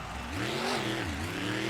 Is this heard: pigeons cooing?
no